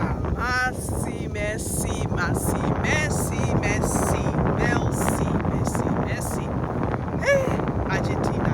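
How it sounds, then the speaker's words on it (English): Heavy wind buffets the microphone throughout, a constant roaring rumble, while a person talks and birds or voices chirp faintly in the background. "it's very windy"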